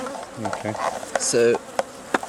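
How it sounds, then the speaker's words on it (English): Honeybees buzz around an open hive, several close buzzing passes rising and falling in pitch over a quieter background hum, while a person speaks briefly. "Let's untrap the bee that was behind it"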